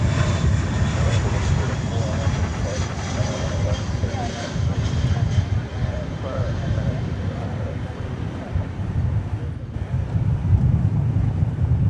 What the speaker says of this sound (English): a plane which will be celebrating its 32nd birthday next month